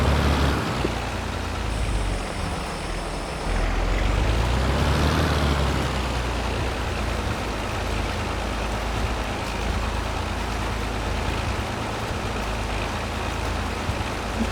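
A tractor engine runs steadily close by, a broad continuous rumble with a low drone that swells briefly partway through, with no talk over it.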